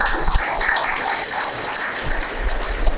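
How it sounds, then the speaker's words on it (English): A hall full of people at a chemical engineering valedictory function at Annamalai University applauds a retiring engineering dean, a dense, continuous rain-like patter of many hands, loud and sustained throughout. "Let us all give him a big round of applause."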